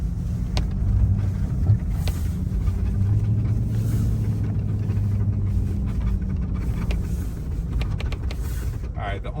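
A truck towing a trailer rolls slowly over rough, muddy ground behind a house, giving a steady low engine rumble with occasional creaks and rattles while people talk over it.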